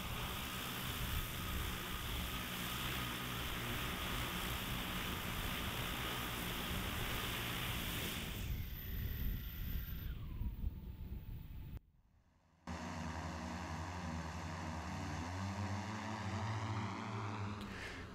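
Heavy multirotor drone carrying a fixed 25 kg payload at about 52 kg takeoff weight, running an accelerate-and-brake test: a steady, loud broadband rotor roar throughout, with a sudden shift and brief dropout midway before the drone resumes flying.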